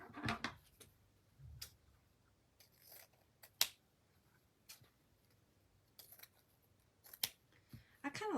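Scissors cut down craft material for a spring vintage truck project, giving a scattered series of short, crisp snips, each one close and quiet against a hushed room with no talking.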